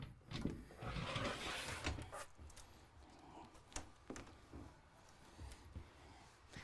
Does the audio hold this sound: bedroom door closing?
yes